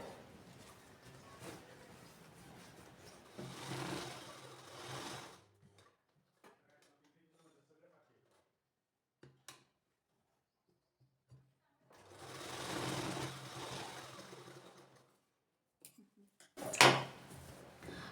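A domestic sewing machine stitches tucks into a printed blouse, with two sustained runs of mechanical whirring separated by pauses and faint handling clicks, followed by a brief sharp burst near the end.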